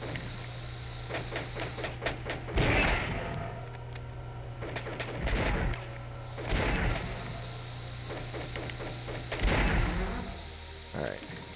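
Explosions and hits in the video game Crusader: No Remorse, a handful of loud, broad booms spaced a few seconds apart over a steady low electronic hum and smaller clicks.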